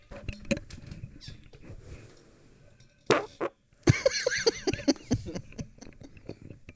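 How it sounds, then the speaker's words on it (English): A fart during a casual podcast-style chat: short raspy bursts break out loud and close among scattered clatter, with people talking around it. "That was a funny fart."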